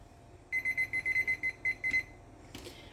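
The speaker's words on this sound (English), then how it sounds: "So just set yourself a timer for 15 minutes." A kitchen timer goes off while pasta bakes in the oven, giving a quick run of about ten sharp, evenly spaced high beeps, followed by a faint clatter, in a quiet kitchen.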